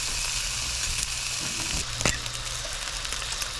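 Brook trout frying in a pan, seasoned with salt and pepper, gives a steady close sizzle throughout with a brief louder crackle partway through.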